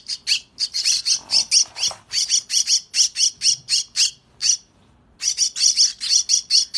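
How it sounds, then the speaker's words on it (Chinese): Mynah chick squawking while being hand-fed, a rapid run of loud, harsh begging calls close up with a brief pause before the calls resume, no talking. "可以把鸟拿过来喂食了。 来，一口。"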